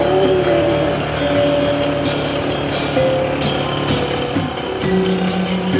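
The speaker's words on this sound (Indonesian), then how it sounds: "ayo Dodo, tancap gas Dodo, tapi nggak usah keras-keras" A vehicle accelerating along a village road, its engine drone loud and close with rising tones and steady road noise throughout.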